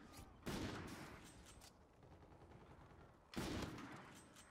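Two bursts of rapid automatic fire from a gun in the video game Infinite Warfare, each a dense rattling volley about a second long, separated by a quieter stretch, with no talking.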